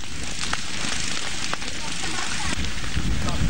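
Wind-driven fire racing across peatland near a village in Ogan Ilir, South Sumatra: a steady, loud roaring hiss with scattered crackles and pops throughout, wind rushing over it, no pause in the blaze.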